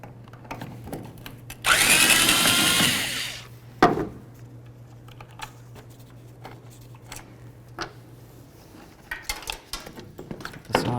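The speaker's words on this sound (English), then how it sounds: "Remove those with a Phillips head screwdriver." Tail light mounting screws removed on a 1992-99 GMC K1500, with a loud whirring power-tool burst near the start, then a sharp knock and scattered light clicks and taps of hand work at close range.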